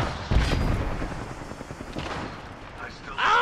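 Gunfire in the Apex Legends battle royale game, a burst of shots and booms near the start followed by scattered further reports, heard under voices and game noise.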